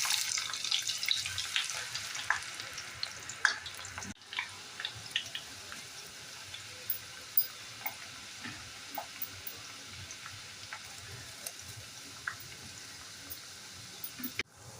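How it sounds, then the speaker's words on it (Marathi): Chopped onion frying in oil on a low gas flame for fried onions, a soft steady sizzle with scattered pops and crackles, loudest in the first few seconds and then settling to a quieter bubbling hiss. "आता थोडा थोडा कांदा घालू."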